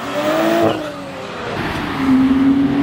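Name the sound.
cars racing at a car meet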